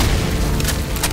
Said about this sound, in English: First, blow the barrels.